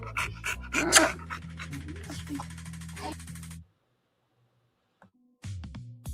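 A contented dog pants close up in quick, breathy rhythmic huffs, falls silent partway through, then starts panting again near the end.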